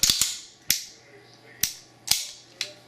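A Cabot 1911 pistol's action cycles with crisp, metallic snaps: six sharp clicks at uneven intervals, close and clear with a faint ring after each.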